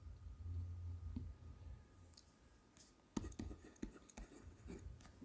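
A pen scratching over paper while accounting figures are noted down, with quick, close strokes and small taps in a cluster over the last couple of seconds, faint and without talk.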